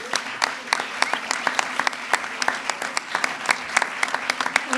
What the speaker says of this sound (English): Can we please give a round of applause to Ms.